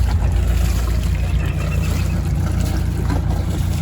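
A sailboat's engine idles at the dock before departure, a steady loud low rumble with wind and water noise around it, constant and close throughout.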